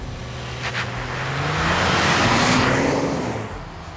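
A 2025 Ford Expedition Stealth with its 440-horsepower engine accelerates, a steady broad engine roar and road noise building and swelling to a peak near the middle before easing slightly, heard from inside without talk.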